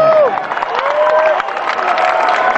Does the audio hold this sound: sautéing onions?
no